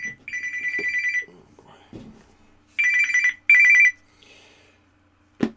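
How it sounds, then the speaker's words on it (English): Telephone ringing in bright electronic bursts, one long ring then two shorter ones, loud and near, with short bits of a voice between rings. "I was expecting this phone call."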